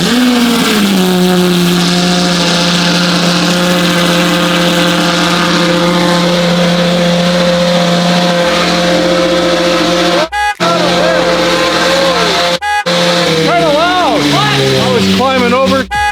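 A Lamborghini SVJ with a Gintani F1 exhaust and flame tune roars loudly at a high idle after a cold start, settling into a steady rumble, with a few sharp revs near the end.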